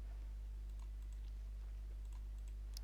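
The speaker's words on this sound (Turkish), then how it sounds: "şu anda mouse sesi geliyorsa kusura bakmayın" Quick, light clicks of a computer mouse and keys tap sporadically and close by over a steady low electrical hum, with no talking.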